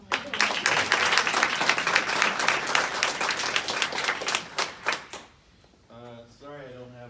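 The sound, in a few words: audience applause for workshop organizer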